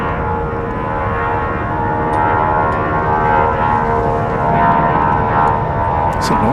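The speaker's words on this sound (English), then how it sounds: "flight 1177, a 737-800, which will be headed to Atlanta" A Boeing 737-800 airliner bound for Atlanta at Dallas Love Field gives a loud, steady engine roar that swells slightly as it passes nearby, with no talking over it.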